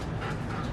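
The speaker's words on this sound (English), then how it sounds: "This is my dog." A pet dog panting and whimpering indoors during a prank on a family member: a brief, close burst of breathy panting with faint whining, and no voices.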